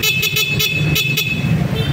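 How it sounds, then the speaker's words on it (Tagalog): Horn of a EuroMotor Falcon 180i motorcycle honking loudly and close in a run of short repeated toots over a steady low engine hum. "Malakas ang busina."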